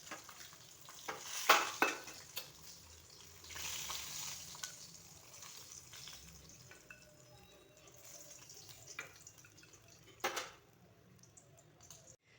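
Singhi fish, rubbed with turmeric and salt, fry lightly in hot oil with a faint, steady sizzle, punctuated by a few louder clinks and stirring noises.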